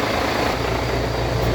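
A fuel tanker's pump drains one of its four petrol and diesel compartments, giving a steady, close, low mechanical drone and hum that holds level throughout.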